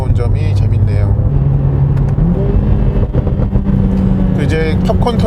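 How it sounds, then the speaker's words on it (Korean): A 2021 Mercedes-AMG CLA45S 4Matic Plus in race mode crackles and pops from its exhaust on lift-off, with loud engine drone underneath and someone talking over it throughout. "이렇게 가속 페달에서 발을 놓을 때마다 이 팝콘 터지는 게 있고요"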